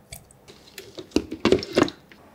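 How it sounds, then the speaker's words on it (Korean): Halved tofu is squeezed of its water in a spin-dryer squeezer, giving a handful of soft, wet squishing bursts up close, clustered toward the end. "두부는 반을 잘라 짤순이에 넣고 물기를 쏙 짜준 후"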